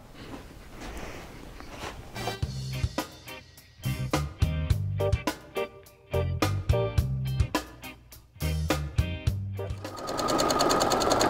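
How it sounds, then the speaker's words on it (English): Sewing machine top stitching a weighted quilted blanket, running in several short bursts of rapid needle chatter separated by brief pauses, close and clear, ending in a softer whir. "we're going to go ahead and top stitch"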